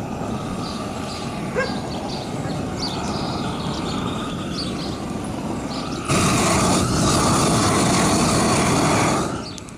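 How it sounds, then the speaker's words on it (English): A loud, broad roar builds from a distant rumble under chirping birds and then surges to a strong, steady blast, like a jet passing low overhead. "That was loud, wasn't it? Sounds like a jet."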